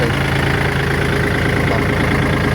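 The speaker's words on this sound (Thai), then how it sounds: "เราต้องขับรถไถครับ" A tractor engine idles steadily up close, a constant low, throbbing rumble with no change in pace.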